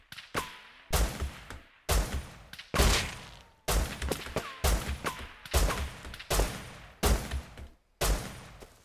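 Heavy gunshots ring out in Rust, about ten loud, booming reports spaced roughly a second apart, each trailing off with a short echo.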